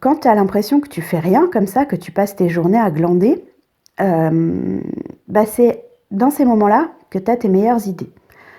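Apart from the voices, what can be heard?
No everyday noise stands out behind the speech.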